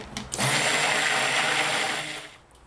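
A stick blender whirring through cold process soap batter in a pot, one steady motorized buzz of a couple of seconds, starting and stopping abruptly.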